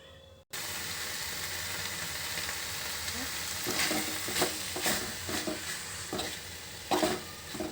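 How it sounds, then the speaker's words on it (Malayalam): Squid with turmeric, chili powder and salt sizzles steadily in a pan, with a few louder stirring scrapes and bursts toward the end, no talking. "മഞ്ഞപ്പൊടി മുളക് പൊടി ഉപ്പും ചേർത്ത് ഇനി ഇത് വേവിക്കാൻ പോവുകയാണ്"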